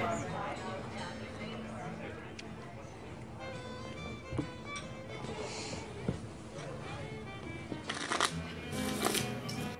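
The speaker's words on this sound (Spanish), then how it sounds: "Puedes barajar esas cartas todo el día, pero sabes que voy a ganar." Playing cards shuffled at a table during a card game in a Western film, with repeated riffling bursts under ongoing background chatter and music, growing sharper and louder toward the end.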